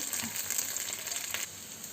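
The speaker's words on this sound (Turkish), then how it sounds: "Karıştıra karıştıra kavuruyoruz pirinçlerimizi." Rice sautéed in butter sizzles and crackles in a pan, a steady close frying hiss with soft stirring scrapes, fairly quiet overall.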